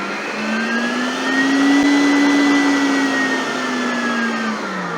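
An Oberhof planetary mixer runs steadily while mixing dough, its motor giving a continuous, close whirring hum that swells slightly in the middle and then eases back, with no talking.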